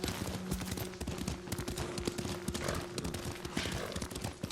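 Horse hooves clip-clopping in a quick, steady rhythm as a rider travels on horseback in the video game Ghost of Tsushima, with a faint tonal hum and wind-like noise underneath.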